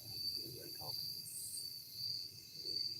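Insects at night beside Seneca Creek keep up a steady, high, continuous chirring throughout. The sound is faint and even, with low background murmur beneath it.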